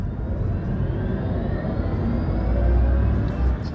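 A 2025 Mini Cooper SE electric car accelerating: a steady low road rumble with a faint rising electric whine as speed builds, heard from inside the cabin.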